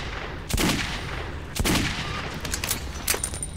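Gunfire in the post-apocalyptic shooter Metro 2033: two loud, sharp shots about a second apart, followed by a quicker, lighter volley, each burst ringing briefly over a steady background hum.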